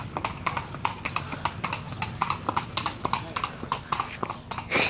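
Horse hooves clip-clop in a steady, even rhythm on a hard surface, close by, with a faint voice in the background.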